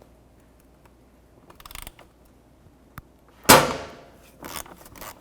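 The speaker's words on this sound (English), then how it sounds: "Just going to give it a couple loving bonks" A hammer strikes a twist socket on an intake manifold bolt of a 1999-2007 Chevy Silverado, giving one sharp metallic bonk and then a lighter follow-up knock. A few faint clicks and rattles of the tools come before it.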